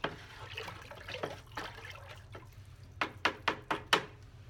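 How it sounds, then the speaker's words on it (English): Metallic green pottery glaze stirred in its container, wet sloshing and swishing followed by a run of five sharp knocks or taps near the end, close and alone without talk. "I'm going to mix the metallic green really well"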